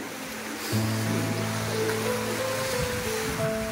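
Pacific Ocean waves roughly 1 to 1.5 meters high roll in off Northern Samar, a broad continuous wash of surf that swells after the first second, with a steady tonal drone running beneath it.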